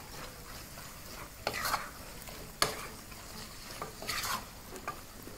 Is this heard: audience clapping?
no